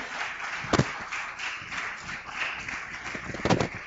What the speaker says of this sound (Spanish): Vamos a recibirlo con un aplauso a nuestro hermano Jorge Lucas Escribano